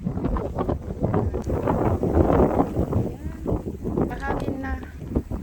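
Strong typhoon wind under Typhoon Signal No. 1 roars and buffets the microphone in heavy gusts on Mount Butler, Hong Kong, with voices talking underneath the rushing air.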